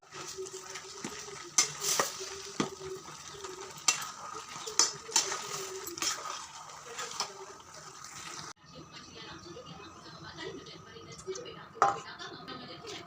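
Tomatoes softening and being stirred in oil in a pan for Andhra tomato pachadi, with scattered clinks and scrapes of a spoon against the pan over a low simmer, a few louder metallic knocks, while a voice talks intermittently.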